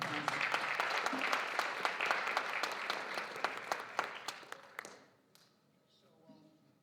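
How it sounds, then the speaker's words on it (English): Applause at a school board meeting: a room of people claps with distinct individual slaps audible in the mix for about five seconds, then it dies away into near silence. "Let's give them a nice round of applause."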